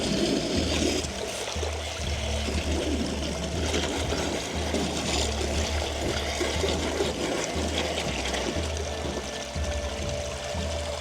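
Water leaking and squirting from a 3D printed floating dredge being tested, a steady, continuous gushing and pouring stream, close and moderately loud throughout with no talking.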